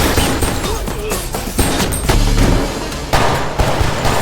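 Loud, rapid bursts of gunfire crackle and boom in quick succession in a film shootout in a lobby, mixed with crashes and dramatic scene noise.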